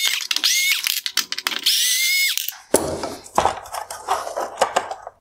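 Two T20 Torx screws being backed out of the upper inside mounting tab on a 2013-2015 Mercedes-Benz ML halogen headlight, with close, bright metallic ratcheting and scraping clicks, then looser rattling handling noises in quick bursts.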